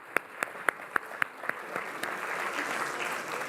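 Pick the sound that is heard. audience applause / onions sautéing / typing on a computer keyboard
audience applause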